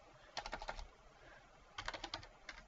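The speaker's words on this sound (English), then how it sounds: "And so I just type these in manually." Values are typed on a computer keyboard into a spreadsheet, with two quick bursts of soft, close key clicks separated by a short pause, quiet and without talk.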